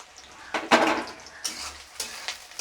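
Crushed garlic stirred into a frying pan of cooking vegetables, heard as a few quick metal spatula scrapes and clinks against the pan over a faint sizzle.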